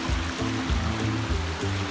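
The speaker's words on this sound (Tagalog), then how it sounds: "Free flowing yung tubig. Yan, kasi tinatawag nilang falls yung mga liit-liit na yan." Water runs over small falls along a mountain trail in Sitio Buok, Bamban, Tarlac, a steady close rushing and gurgling with no voices.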